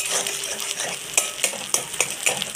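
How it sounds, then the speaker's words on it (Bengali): Beaten egg with salt and turmeric frying slowly in a pan, a steady soft sizzle broken by sharp scraping and stirring clicks from a utensil at irregular intervals, close and alone with no talking. "ডিমটা ধীরে ধীরে করে ভেজে নেব"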